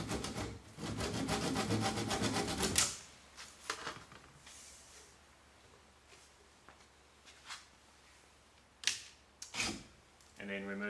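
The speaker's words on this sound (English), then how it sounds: "I find it's just as easy to saw off the dowel." A wooden dowel cut by hand with a saw: a burst of quick, rhythmic rasping strokes for about three seconds, then quiet with a few scattered knocks and scrapes of the wood close by.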